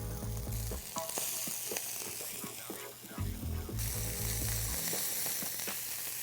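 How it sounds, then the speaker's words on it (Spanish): Shrimp and squid searing in a hot pan for a mixed paella, a continuous loud sizzle and fry with occasional stirring clatter. "Y mientras el camarón se está sellando, vamos a agregar el calamar que cortamos."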